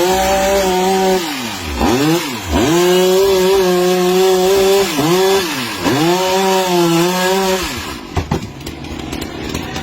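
A chainsaw engine revs up and down repeatedly as it cuts through a tree trunk, loud and close, then cuts out near the end.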